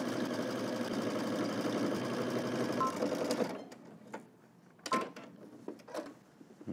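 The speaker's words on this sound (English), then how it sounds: "So let's head to the machine and stitch this down." A sewing machine stitches a jacket seam for a Simplicity S3038 sewing pattern, running in a steady, close whir for about three and a half seconds before stopping, followed by quieter handling sounds.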